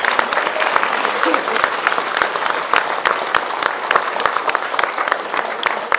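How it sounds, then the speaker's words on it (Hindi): A crowd at a political gathering applauds together, dense continuous clapping with sharp individual claps standing out, some voices mixed in. "जरा तालियां बजाएं अपने लिए सब मिलके।"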